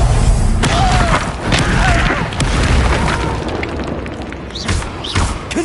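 A fire spell blast booms in Hogwarts Legacy combat, with a loud opening burst followed by further crashing impacts and a sustained roar of game battle noise.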